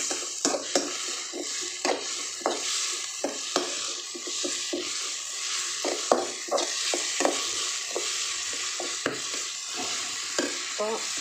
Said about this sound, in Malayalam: അപ്പോൾ ഇതൊന്ന് നന്നായിട്ട് മൂത്ത് വരുന്നവരെ ഒന്ന് വഴറ്റി കൊടുക്കാം